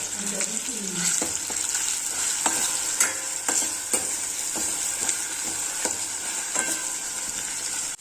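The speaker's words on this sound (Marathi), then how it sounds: "तर चला आपण आपला टमाटा चांगला गाळ शिजवून घेऊ" Tomato and ginger cook in a pan for a green moong dal curry, a steady sizzle and fry with repeated sharp scrapes and clinks of a stirring spoon against the pan, close and alone.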